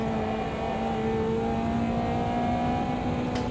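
Caterham race car in Automobilista 2, its engine droning at a steady mid-pitched note with slight pitch slides as the car oversteers, loud and close for the whole stretch.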